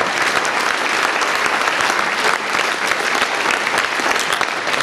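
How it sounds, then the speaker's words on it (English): Loud, dense applause fills the hall at a football banquet, a continuous wash of many hands clapping with a faint crowd murmur beneath it. "So a big round of applause for the LTV."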